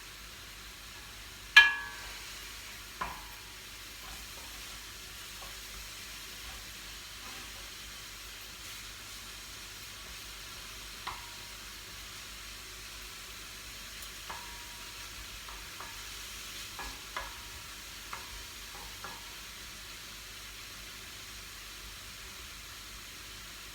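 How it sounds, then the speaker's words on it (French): Tomato purée stirred into a green bean tajine, a soft steady sizzle with a sharp clink at the start and scattered faint utensil scrapes against the pot. "Je vais mettre la purée de tomates. Je mélange."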